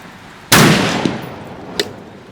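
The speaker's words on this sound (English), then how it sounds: "So here we go, first shots." A single sharp, loud rifle shot with a long decaying echo, first shots through a cheap beginner 3-9 power scope after bore sighting, followed by a fainter clack.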